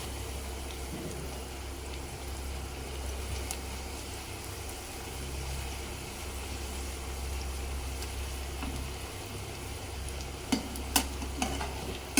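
Karjikai (gujiya) pastries fry in hot oil over a medium flame with a soft, continuous sizzle and low hum, ending with a few sharp clicks and taps near the end.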